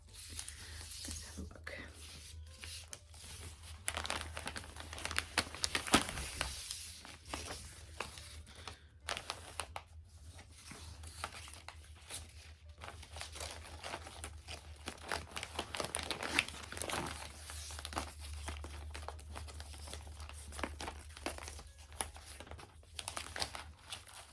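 Gift wrapped in paper and tied with paper ribbon being unwrapped, giving close, continuous crinkling and tearing of paper over a low steady hum, with occasional quiet voice.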